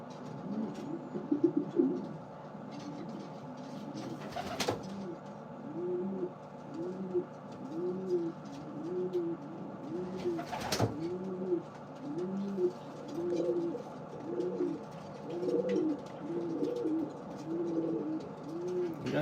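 Breeding pigeons in a loft coo steadily, a rhythmic series of soft rolling calls repeating throughout, with a couple of sharp knocks or bumps breaking in partway.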